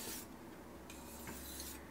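A kitchen knife scrapes across a Shapton Pro whetstone in quick, faint, close rasping strokes, with brief pauses between passes.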